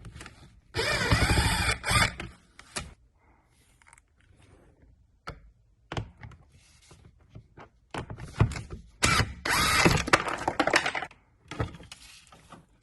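Screws being worked loose from a Subaru Impreza door lock assembly, with short bursts of tool whirring and scattered clicks and taps of handling between them, close and fairly quiet.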